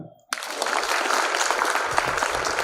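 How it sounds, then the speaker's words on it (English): An audience at a Catholic education leaders' gathering bursts into applause after a brief hush, a dense, sustained clapping from many hands. "Now we clap."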